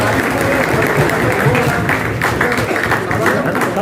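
A crowd at a political gathering applauds in loud, sustained, dense clapping from start to finish.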